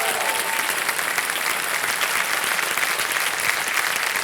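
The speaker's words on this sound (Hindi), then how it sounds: "तालियां बज जाए इनके लिए।" Studio audience applauding on the Kaun Banega Crorepati game show set, a steady dense wash of clapping that holds evenly from start to finish with no talk over it.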